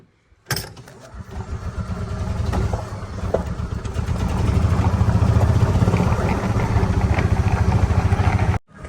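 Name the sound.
golf cart engine running after choke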